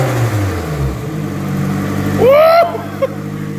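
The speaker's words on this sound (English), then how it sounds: "Give that a quick rev again. It's a lot louder than we thought." An SR20 engine with a divorced downpipe and equal length manifold idles, then gives one quick, loud rev that rises and drops back, with a short blip after; a voice is briefly heard early on.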